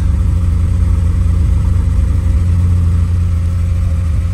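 An Audi 4.0T V8 engine runs steadily and loudly close by at high revs, a deep rumbling drone with no talking over it.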